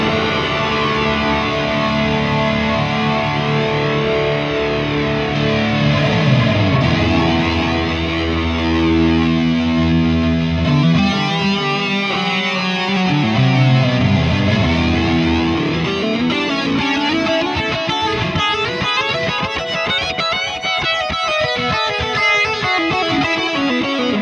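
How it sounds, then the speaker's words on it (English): An electric guitar runs through an STL Tonality plugin with a chorus flanger effect, loud distorted sustained chords sweeping and swirling, with strummed, choppier playing in the later part. "I love the sound of this flanger, chorus flanger"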